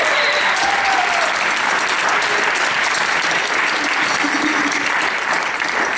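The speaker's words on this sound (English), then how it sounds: "So give them a round of applause." Loud, sustained applause from a concert audience fills the room without a break, with faint voices mixed into the clapping.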